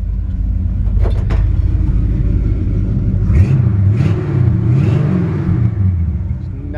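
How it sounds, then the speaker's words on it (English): A 1972 Chevy C-10 pickup with a 454 V8 rumbles loudly through its exhaust, a deep, close engine note that swells with a few revs midway. "Nice sounding exhaust."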